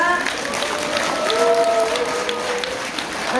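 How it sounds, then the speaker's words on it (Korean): A crowd applauds with steady clapping at a debate event on an impeachment trial while a voice talks over it. "큰 박수 부탁드립니다"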